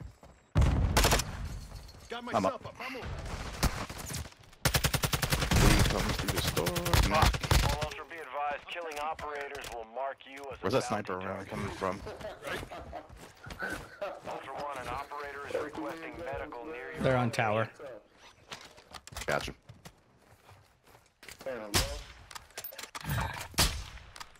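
Rapid bursts of automatic gunfire rattle loudly in a Call of Duty DMZ match, sounding densest early on and thinning later. Players talk over the shooting through game voice chat.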